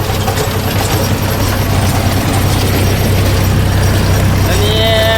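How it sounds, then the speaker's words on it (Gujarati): A tractor pulling a rotavator runs at night in a dusty field. Its engine gives a loud, continuous low drone with a steady rumble and no breaks. "અત્યારે વાગી ગયા છે રાતના 11:30 ને આપણું ટ્રેક્ટર ચાલુ છે."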